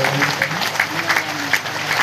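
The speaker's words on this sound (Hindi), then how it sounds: "उनके भी जोरदार ताली से स्वागत करें।" Loud, steady clapping from a crowd welcoming saints at an Akhil Bhartiya satsang in Dumaria, sustained and dense with a few louder peaks, with some voices underneath.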